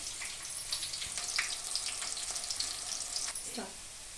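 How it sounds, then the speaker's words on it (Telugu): Cumin seeds and curry leaves frying in a pan for karam borugulu, a faint, steady sizzle with light crackles and a brief stirring scrape near the end. "కొద్దిగా జీలకర్ర వాళ్ళని యాడ్ చేసుకోవాలి వీటిని దూరగా వేయించుకోవాలి"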